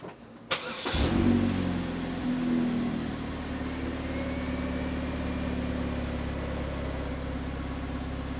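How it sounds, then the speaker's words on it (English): A car engine cranks and starts with a sharp transient, then settles into a steady idle hum that continues alone, nearby and fairly loud. "I'm gonna start the car"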